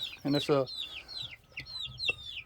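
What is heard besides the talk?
Wyandotte rooster clucking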